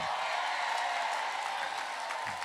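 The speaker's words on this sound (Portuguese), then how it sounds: "Uma salva de palmas." Applause at a Catholic television broadcast ceremony in Rio de Janeiro, a steady wash of clapping from an audience that holds evenly for the whole stretch with no voices over it.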